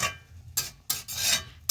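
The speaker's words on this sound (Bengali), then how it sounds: "দিয়ে নাড়িয়ে চাড়িয়ে নামিয়ে দেবো" Spinach, mixed vegetable and lentil dal stirred in a cooking pot, giving three or four rasping, scraping strokes of a spoon against the metal, close and fairly loud, with short quiet gaps between them.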